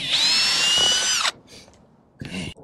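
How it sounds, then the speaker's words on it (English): Power saw cutting through plywood decking on a torch-down roof, a loud sustained whine of about a second that cuts off, followed by short bursts of renewed cutting. "I'm cutting this plywood just to see what's underneath there."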